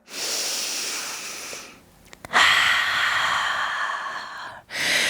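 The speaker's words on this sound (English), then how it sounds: "Take a full breath in and a full breath out." Slow, full yoga breaths during a vinyasa flow: a long airy exhale, a short pause, then a drawn-in breath and another long rush of air, close and alone with no talk.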